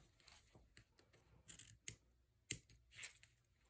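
Scissors trim paper scraps for a flower-garden greeting card, giving a close, quiet series of irregular snips and crisp cuts with short pauses in between and no voices.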